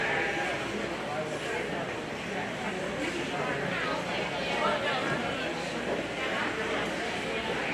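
Sheep bleat repeatedly at a 4-H/FFA sheep and little lambs show, a steady, busy chorus of livestock filling the arena, with people's voices talking throughout underneath.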